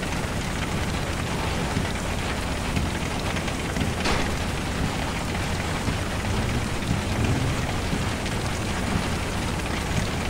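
Hail pelting a car during a storm chase with a tornado approaching, cracking the front windscreen; a dense, loud, continuous drumming and hiss of stones on the vehicle with no voices.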